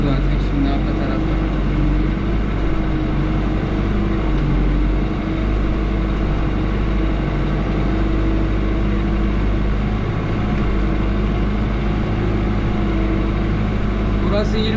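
A New Holland TD75 tractor engine on a farm field during corn harvest as it turns slowly, a loud steady low rumble that runs unbroken throughout, with someone talking over it.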